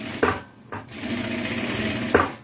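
Sewing machine running a straight seam in yellow thread on a fabric backpack, with a steady close mechanical hum between a few sharp knocks.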